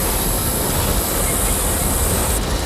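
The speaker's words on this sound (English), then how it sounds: "As the train picks up momentum" Steam passenger train rolling as it picks up momentum, a loud steady rumble of wheels and cars on rails with a high squealing tone, heard close.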